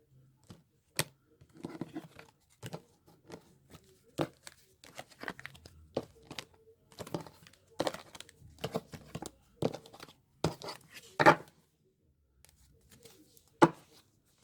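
Tarot or oracle cards are cut and shuffled by hand, giving a close, uneven run of crisp slaps, riffles and papery clicks that bunch up and then thin out toward the end, with no voice over them.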